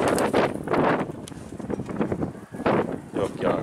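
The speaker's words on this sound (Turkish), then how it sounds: "çok rüzgar var" Strong gusts buffet the microphone in loud rushing bursts outside a pigeon coop, with a voice speaking briefly amid the wind.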